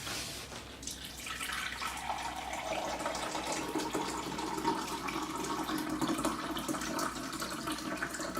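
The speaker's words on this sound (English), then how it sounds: "I'm going to get my water right out of my Berkey." Water pours steadily from the spigot of a Berkey countertop water filter into a container, a continuous close trickle with no talking.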